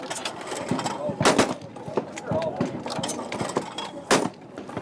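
Benelli 828U over-and-under shotgun fired at a shooting range during SHOT Show 2015, sharp shots cracking out at intervals among range noise, with two louder blasts standing out, and people talking between shots.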